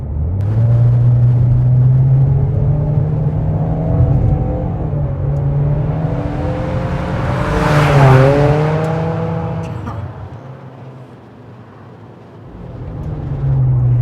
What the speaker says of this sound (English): Let's go ahead and give it some gas one more time just to get a nice sound.